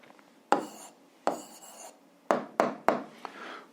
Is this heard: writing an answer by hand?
yes